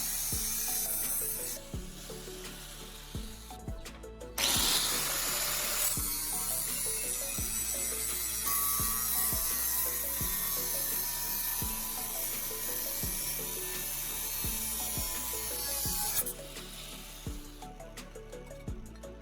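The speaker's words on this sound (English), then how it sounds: "I'm going to use an angle grinder to cut along the line I just marked" An angle grinder cuts along a marked line on a steel pipe held in a vise, a steady high-pitched grinding whine that runs loud and continuous for most of the stretch, with rhythmic thumps from the vise setup underneath.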